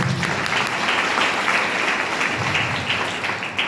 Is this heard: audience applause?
yes